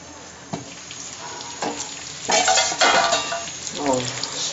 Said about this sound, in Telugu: నెమ్మదిగా ఇలా ప్లేస్ చేసుకోవాలి ఆయిల్లో